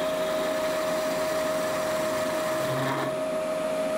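A machine tool cuts metal at 500 RPM with chatter, giving a loud, continuous droning whine with a steady high tone and no pauses or voices.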